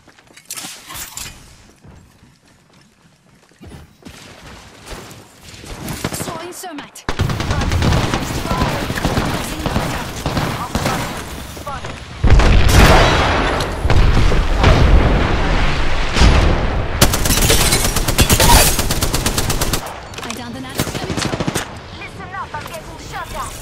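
Gunfire in the video game Apex Legends, with rapid automatic bursts, booming shots and explosions that swell into dense, loud volleys after quieter opening moments, with game voice lines spoken between the shots.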